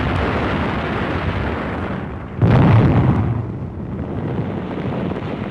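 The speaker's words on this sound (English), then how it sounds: "A heavy concentration of anti-aircraft fire brings further losses in Allied planes" Anti-aircraft fire in a WWII newsreel over the Nijmegen area: a heavy, continuous low rumble with a sharp booming burst midway, then the roar settles back into a sustained blast-filled drone.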